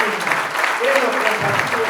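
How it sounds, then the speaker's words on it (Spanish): A crowd applauds loudly for José Carlos Santini after a talk at the Fiesta Nacional del Automovilismo in Balcarce, with a voice speaking over the clapping. "Fuerte el aplauso para José Carlos Santini."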